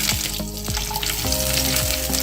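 Three or four cloves of chopped garlic hit hot oil with already popped cumin seeds in a pan, giving a steady close sizzle and fry with light stirring clatter throughout, no voices.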